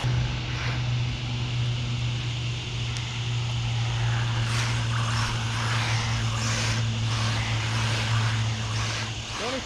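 A ZD rally RC car fitted with a 24 tooth pinion drives continuously, its electric motor holding a steady loud whine with shifting gravel and surface noise, close by throughout.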